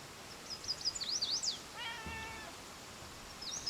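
A cat meows outdoors in a few rising, wavering calls, moderately close and fairly loud, then a softer meow near the end, with no talking over it.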